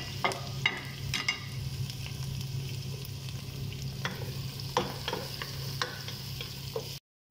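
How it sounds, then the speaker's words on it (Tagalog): Onion, garlic and ginger sautéing in a pan for chicken kabsa make a low steady sizzle with scattered spatula clicks and scrapes close by, no speech, ending abruptly in silence. "Ito magluto na ng sibuyas and bawang at luya."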